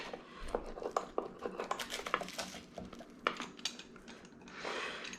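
A knife saws through the crispy crust of a homemade pizza on a board, giving quiet close scraping crunches and light clinks in an irregular rhythm, with no talk.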